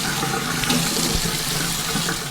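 Running water rinses a baby's head during a bath, a steady close splash and trickle from start to finish with no voices.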